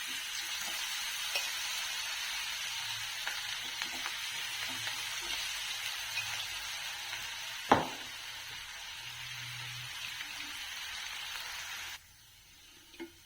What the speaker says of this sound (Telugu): దీన్ని డీప్ ఫ్రై చేసుకుందామండి.